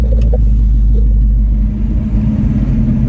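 A 1967 Pontiac GTO drives along with a steady low engine rumble and road noise, close and continuous, with no voices.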